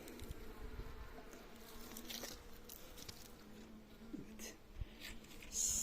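Honeybees hum as a steady, low buzz around an open hive during an autumn inspection of the frames, close and continuous, with a few soft knocks from handling the combs.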